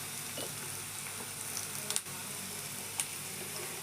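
Masala with turmeric sautéing in a pan for a sardine curry, a soft, steady sizzle with a few light clicks of stirring, fairly quiet and close with no talking.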